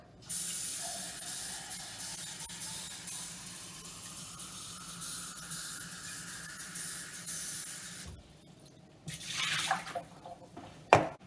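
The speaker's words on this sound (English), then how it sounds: "see how long it takes to fill up this glass of water" Water hisses steadily from an under-sink filter tap into a glass for several seconds, then stops, followed by a few clinks and handling noises.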